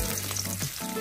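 Chana dal and peanuts frying in hot oil for lemon upma made with red poha, a close, steady crackling sizzle over about a second, with no voices.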